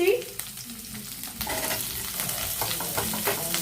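Onions frying on high flame in a pan for restaurant-style paneer and mushroom chilli, a loud continuous sizzle with scraping stir strokes, close and without talk.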